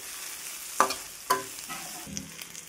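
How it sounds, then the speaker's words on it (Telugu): Ginger garlic paste with turmeric frying in a pan, cooked for egg fried rice, gives a low sizzle broken by a few sharp scrapes of a spoon against the pan, with no talking. "పచ్చివాసన పోయే వరకు ఫ్రై చేయాలి."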